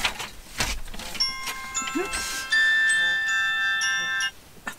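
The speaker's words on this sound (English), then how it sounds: "That's my alarm." An electronic alarm beeps in steady high tones for a couple of seconds, then cuts off, with a brief spoken exclamation and room noise before it.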